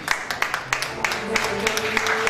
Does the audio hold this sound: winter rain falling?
no